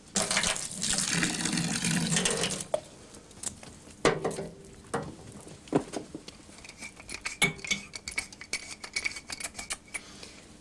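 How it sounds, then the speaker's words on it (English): Water poured and splashing into a bath, a loud running gush for a few seconds that gives way to scattered splashes, clinks and knocks. "Here's the water, Dottie"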